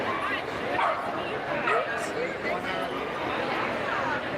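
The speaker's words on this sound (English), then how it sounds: "Small dog." Small dogs yip and bark at the Mississauga Pet Expo, an indoor pet show. Repeated short barks come through steady crowd chatter and people talking nearby.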